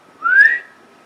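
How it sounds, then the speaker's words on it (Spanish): A single rising human whistle, bright and clear, lasting about half a second at moderate loudness over quiet room background, with no talk during it. "Si damos un silbido"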